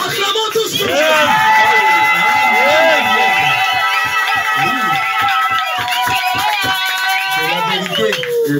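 Church congregation acclaiming God during a worship service, with loud sustained crowd cheering, whoops, singing and applause forming a dense, continuous wall of voices.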